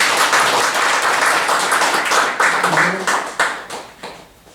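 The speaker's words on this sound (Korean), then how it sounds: "우리 한번 더 박수 한번 해주세요." An audience claps at an honorary doctorate thanksgiving service at a Korean theological graduate school. Loud, dense applause rises, then thins into scattered claps and fades toward the end.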